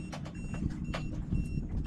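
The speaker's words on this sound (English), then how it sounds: "proximity alarm going off" A sailboat's proximity alarm beeps repeatedly under way on the water, a short series of evenly spaced electronic chirps over a low wind and engine rumble, alone without talk.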